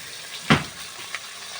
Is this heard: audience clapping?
no